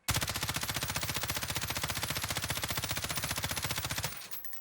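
Sustained rapid automatic fire from an M13 assault rifle in the video game Warzone, a loud, steady stream of shots for about four seconds before cutting off.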